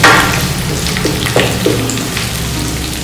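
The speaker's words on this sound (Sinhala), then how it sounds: "වෙනම සෝස් පෑන් එකක් ලිපෙන් දියලා මේ විදිහට කරපුංච කොළ ටික බෙදගත්තා." Curry leaves frying in coconut oil in a saucepan make a steady, close sizzle and crackle throughout, with a few brief louder pops and stirring scrapes mixed in.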